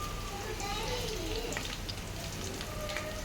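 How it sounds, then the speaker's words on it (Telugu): Cumin seeds and chopped onions fry in a pan for a village-style broad bean curry, giving a dense, even crackling sizzle that carries steadily at close range. "జీలకర్ర కొంచెం చిటపట్లు ఆడుతున్నప్పుడు మనం కట్ చేసి పెట్టుకున్న ఉల్లిపాయలు కూడా వేసేసుకుందాం"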